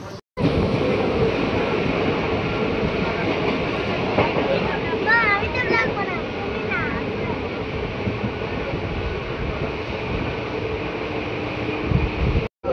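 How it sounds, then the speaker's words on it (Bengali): Ganadevta Express passenger train rolling on rails toward Burdwan Junction in West Bengal, a steady loud broadband rumble with wind buffeting the microphone throughout and brief squealing tones in the middle. "একদম সঠিক সময় আমাদের ট্রেন এসে পৌঁছালো বর্ধমান জংশনে।"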